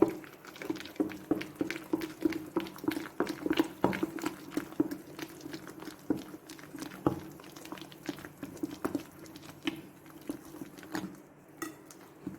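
Ground soaked lentil batter for doi bora is beaten by hand in a bowl, giving faint, steady rhythmic patting and slapping strokes with light clinks of utensil against the dish, close by and without talk.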